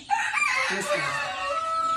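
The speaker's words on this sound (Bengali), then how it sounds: "তো এখানে এই গুলারে রয়েছে মোটামুটি 2 মাস বয়সী অনেকগুলো মুরগি।" A rooster crows close by amid clucking from a flock of about two-month-old fancy chickens, including Colombian Brahma, in a short burst with no talk.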